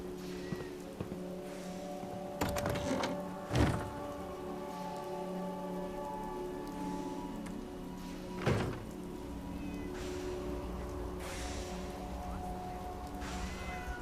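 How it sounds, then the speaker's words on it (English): Cats meow now and then in a Fallout 4 garage, the cries soft and intermittent over a constant patter of rain, with a couple of dull thunks mixed in. "Is it a bit on the nose to have cats in the Atom Cats garage?"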